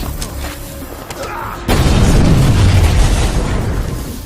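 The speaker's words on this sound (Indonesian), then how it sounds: "Di sana Will secara refleks segera membuang granat tersebut dan mendorong Cooper untuk melindunginya." A grenade detonates in an action film: after a quiet, tense lead-in, a sudden loud blast erupts and rolls on into a long, heavy rumble of debris and echo.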